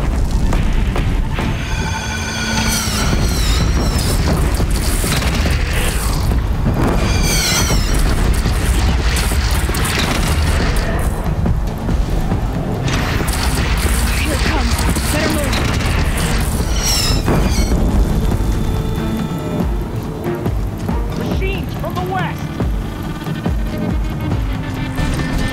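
Cannon fire and explosions boom steadily through a loud Horizon Zero Dawn battle at the Meridian platform, with dense overlapping blasts, clanks and shouted voices across the whole stretch.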